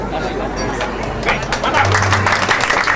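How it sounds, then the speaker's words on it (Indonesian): Applause from an audience at an officials' inauguration ceremony, steady clapping with crowd chatter and a voice speaking over it. "Ya, tepuk tangan yang meriah."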